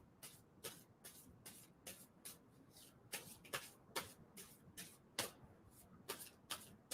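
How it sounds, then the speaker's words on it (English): Playing cards are shuffled repeatedly up close, a run of quick riffling bursts at a steady rhythm, quiet and alone. "I'm going to stop shuffling"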